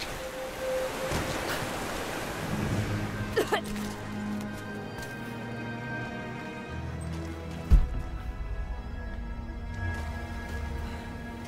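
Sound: rising water in the video game Rise of the Tomb Raider

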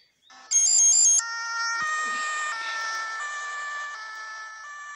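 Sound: ambulance siren in a driving video game

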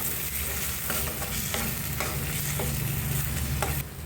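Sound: stir-frying jackfruit curry in a pan

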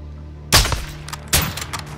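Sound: gunshots in a video game

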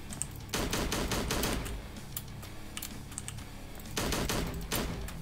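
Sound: gunfire from a video game, Slendytubbies 3

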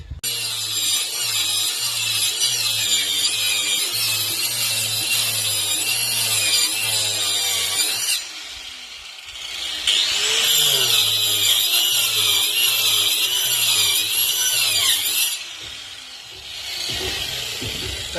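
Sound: power saw cutting a wooden board in half

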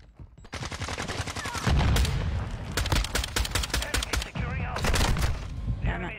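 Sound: gunfire from a video game shooter

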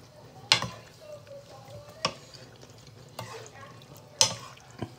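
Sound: tossing pasta in turkey bolognese sauce

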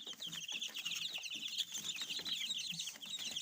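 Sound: chicks of mixed-breed hens

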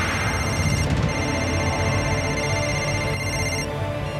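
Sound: telephone ringing

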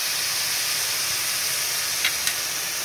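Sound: chopped onion frying in hot oil

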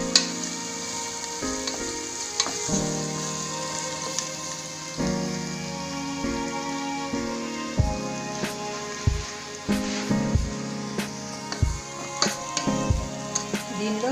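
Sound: sliced onions frying in masala in a pan

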